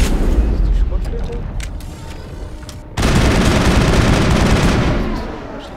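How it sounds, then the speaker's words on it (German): Sustained machine gun fire from the video game Mass Effect, a dense, loud rattle of rapid shots that intensifies sharply midway and then tapers off, with a voice heard over it. "Das muss ein Maschinengewehr sein."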